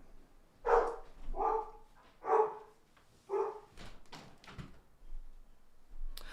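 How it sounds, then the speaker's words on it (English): Dogs bark indoors in a string of four or five sharp, fairly close barks at a moderate level, followed by a few knocks and thumps like a door or drawer, with no talk over them. "1 second while I tell the dogs to be quiet."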